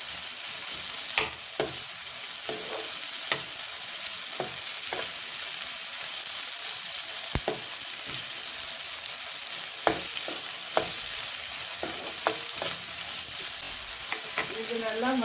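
Vegetables sautéing in a pan for pasta, a steady sizzle throughout, punctuated by a dozen or so irregular spatula scrapes and taps.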